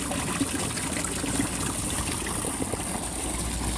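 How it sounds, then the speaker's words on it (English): Water gushes steadily back into a garden pond from a filter outlet, a continuous close, loud flowing and splashing wash with no talking. "The water returning to the pond."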